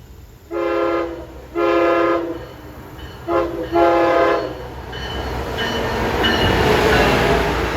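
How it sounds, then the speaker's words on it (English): An Amtrak Acela passenger train from Boston to Washington passes with two pairs of loud horn blasts, followed by a rising, steady rush of wheels and rail noise as it nears and goes by. "approaching at 1050 is 2151 Acela from Boston to Washington"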